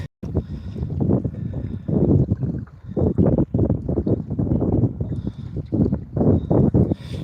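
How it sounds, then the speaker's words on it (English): Strong wind blowing outdoors, buffeting the microphone in loud, rough gusts that come and go with brief lulls, close and continuous throughout. "That wind's picking up."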